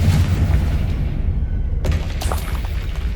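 A booming spell explosion in Hogwarts Legacy: a deep rumbling blast over low background noise, then a sharp crack of impact debris shortly after.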